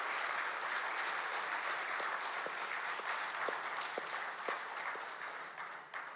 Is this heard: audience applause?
yes